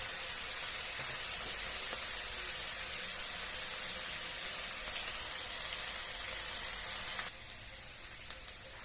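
Potato pieces frying lightly in a pan with a little oil and steam, a steady soft hiss and crackle that holds evenly close by, easing slightly near the end.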